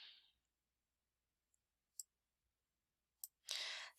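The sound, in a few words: mouse click on the Close button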